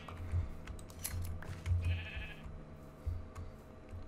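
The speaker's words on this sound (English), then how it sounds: "Yeah, there's a lot of sheep." Sheep bleating in the video game Minecraft, several short wavering bleats repeating over a steady background of in-game ambience, fairly clear and moderately loud with no talking.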